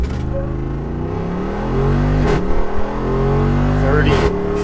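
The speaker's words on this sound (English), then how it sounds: "you nail the gas pedal from a stopper driving, you get those nice braps on the upshifts" A Jeep Wrangler 392 accelerates hard from a stop, its engine note climbing steadily, then two sharp exhaust braps mark quick upshifts before it pulls again.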